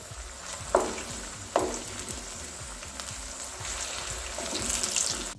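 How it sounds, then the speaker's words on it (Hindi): Potatoes shallow fry in a pan with a soft, continuous sizzle that swells toward the end, marked by a couple of brief clanks near the start, close and fairly quiet, with no talking. "अब हम आलूओं को पलट लेंगे और आलूओं को हम गोल्डन ब्राउन होने तक सेकेंगे।"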